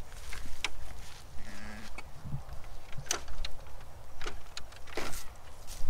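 Sheep on a farm in Morocco bleat faintly a couple of times, distant and brief, amid outdoor rustling and clattering noise.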